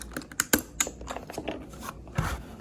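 Sharp plastic clicks and snaps from a budget mechanical keyboard as hot-swappable red switches are pried out with a switch puller, irregular taps close by with no talking.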